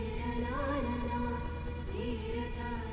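Steady rain falls throughout, a dense, even wash of drops on a surface, loud and close, with a faint musical tone running beneath and no talk.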